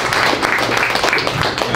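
Audience clapping at a live men's panel event in Los Angeles, a dense, close burst of hand claps from many people, loud and continuous for under two seconds.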